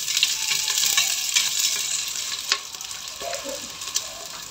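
Onion sizzles as it hits hot oil in a pan, a bright steady crackling hiss with a few sharp clinks of a utensil stirring, close and clear with no speech.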